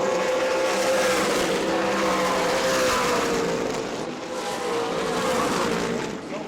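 Race cars roar around the track at New Smyrna Speedway, engines loud and sustained with a rising and falling pitch as the pack passes, a dense steady drone without pauses.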